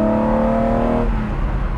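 A 1980 BMW M1 sports car accelerates away, its engine note rising as a strong harmonic drone before it breaks into a rougher, broadband roar.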